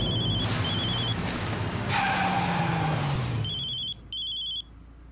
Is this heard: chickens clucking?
no